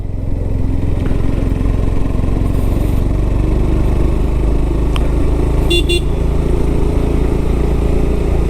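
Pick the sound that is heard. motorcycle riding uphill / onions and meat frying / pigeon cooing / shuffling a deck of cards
motorcycle riding uphill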